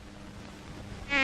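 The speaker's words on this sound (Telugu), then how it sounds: "ఈగలు" Flies buzzing as a comedy scene sound effect, a thin whining buzz that swells sharply louder near the end of a brief moment after a faint murky background.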